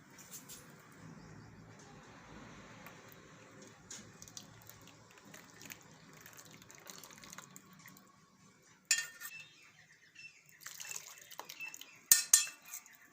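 Melted jaggery water is poured through a strainer in a home kitchen, with soft pouring and trickling followed by sharp clinks and clatters of metal pots and utensils, fairly faint and close, with no talking.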